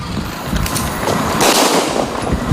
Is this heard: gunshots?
yes